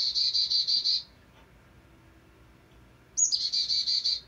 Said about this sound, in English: But if it's not as dangerous, it'll be more like chickadee-dee-dee. This is that call right here.